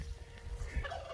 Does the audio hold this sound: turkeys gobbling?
yes